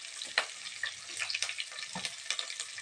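Onion, green chili and spices frying in hot oil in a cooker for baby corn biryani, a close, steady crackling sizzle with a few stirring scrapes.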